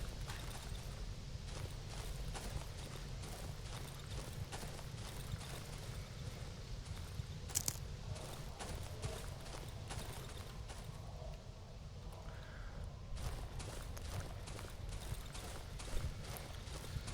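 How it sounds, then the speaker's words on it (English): Footsteps pad through a pitch-black forest in the video game Darkwood, a steady run of soft, quiet steps repeating over a low droning ambience. "Once you get into the really pitch black part of the forest, it's like you hear footsteps that aren't yours"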